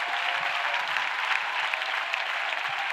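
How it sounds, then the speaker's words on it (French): A church congregation claps together in sustained, dense applause, steady and fairly loud throughout with no voices standing out. "Clap for Jesus Christ."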